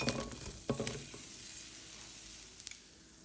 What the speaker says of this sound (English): Last thing we need to toast are the onions and garlic.